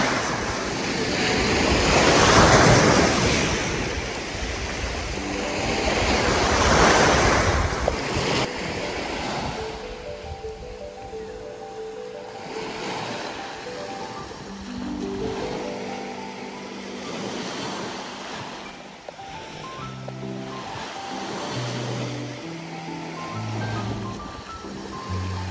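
Sea waves wash onto the beach at San Andres, Quezon, a steady loud surf with wind buffeting the microphone, while tonal music-like notes rise faintly underneath partway through.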